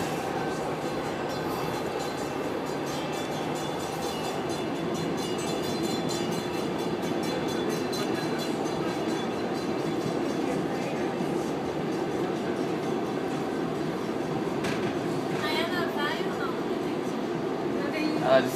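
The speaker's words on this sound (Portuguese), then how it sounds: "Estamos aqui no trem" Inside a moving passenger train, a steady rumbling roar of wheels and carriage noise runs throughout with occasional faint squeals and clicks, while voices murmur underneath.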